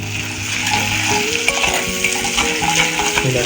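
Chopped garlic frying in butter in a pan, with a loud continuous sizzle and crackle, punctuated by light metallic clinks of stirring.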